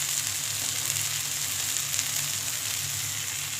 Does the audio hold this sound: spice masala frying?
yes